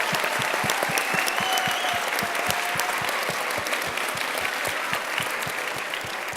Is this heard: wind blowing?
no